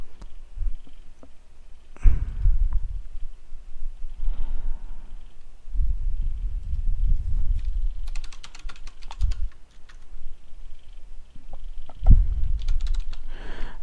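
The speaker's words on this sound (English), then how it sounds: "I'm typing it into chat" Fingers tap on a computer keyboard in bursts of quick, close keystrokes, pausing between runs, with no one speaking.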